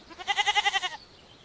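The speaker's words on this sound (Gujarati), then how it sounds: "આ છે બકરી. બકરીને ઇંગ્લિશમાં ગોટ કહેવાય." A goat bleats once, close and clear, in a quick run of rhythmic pulses lasting under a second, then fades to quiet.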